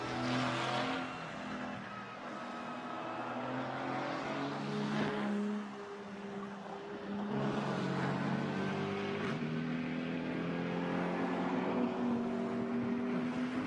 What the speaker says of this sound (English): Gael Castelli at the wheel of number 8 there.